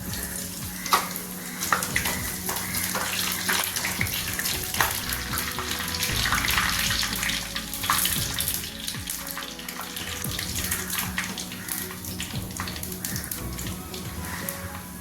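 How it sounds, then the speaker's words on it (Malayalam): Hot oil sizzles and crackles steadily, with sharp pops scattered throughout as dried red chillies and mustard seeds fry in a pan. "നമുക്ക് രണ്ട് വറ്റൽമുളക് ചേർത്ത് കൊടുക്കാം"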